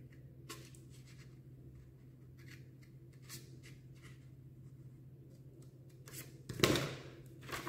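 Scissors snip paper while cutting out a hand shape from the edge inward, producing faint, sparse snips and rustles, then a louder cut near the end over a steady low hum.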